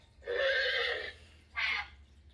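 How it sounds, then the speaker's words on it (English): A Hasbro Playskool Alphie robot toy plays a recorded horse neigh through its small speaker: one long whinny followed by a shorter snort-like call, clear and alone with no talking. "The horse sounds like."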